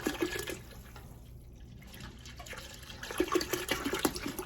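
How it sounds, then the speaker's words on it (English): A quart of half and half poured into a large soup pot for broccoli cheddar soup, a close, steady liquid splashing and gurgling with a brief quieter dip before the stream strengthens again. "And now I'm going to add some half and half. And this is a quart,"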